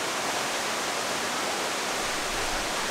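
A waterfall roars in a steady, dense rush of broadband water noise, close and loud, with no voices or breaks.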